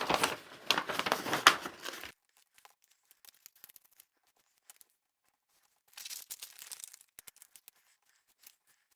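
Paper tissue-box pattern crinkling and crumpling as it is folded along marked lines, a loud dense burst of rustling for two seconds, then quiet with scattered small creases, and another shorter flurry of paper handling later.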